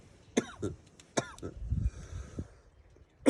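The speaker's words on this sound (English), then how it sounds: "That's a really bad cough I just had." A person coughs several times in sharp, separate bursts, with a pause between groups of coughs, close to the microphone in a quiet room.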